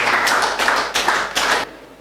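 Applause from a school audience as the principal and teachers hand over a table, heard as three close, loud bursts of clapping separated by short gaps.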